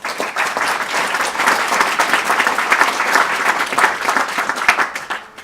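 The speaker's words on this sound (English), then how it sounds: "Can we have a big round of applause, please, for Michelle?" Audience applause at a talk on new interfaces for culture, a loud, dense burst of many hands clapping together that holds steady for several seconds.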